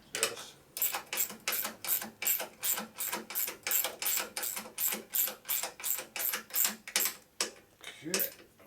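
A ratchet tightening a bolt on a heim joint of a 2001 Gilroy Indian race bike, clicking close up in a quick, regular series of about seventeen strokes with a brief pause near the end.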